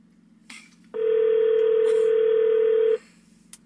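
An unanswered phone call: a single sustained electronic ringback tone lasting about two seconds, clear and close against a quiet room, with faint rustles before and after.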